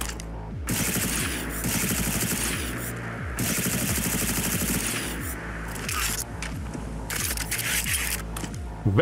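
Rapid bursts of automatic fire from the futuristic G58 Dian rifle, a Cyberpunk 2077 weapon modded into Fallout 4, come in several loud, sustained volleys separated by short pauses, with metallic clacks in between.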